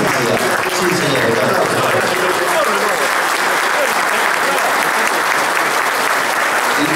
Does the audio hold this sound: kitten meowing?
no